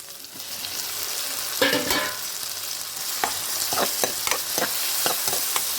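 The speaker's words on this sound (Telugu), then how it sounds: "వీటిలో ఇప్పుడు టమాటా ముక్కలు వేసేసుకుందాం." Tomato pieces added to a hot pan of frying onions: a steady loud sizzle, a burst of spattering as they land, then repeated sharp scraping taps of a spoon stirring, close up.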